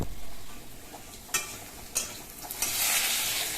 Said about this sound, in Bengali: এই যে কাবলি ছোলাটা এখন ভেজে নিয়ে ভালো করে মশলা দিয়ে কষিয়ে নিয়েছি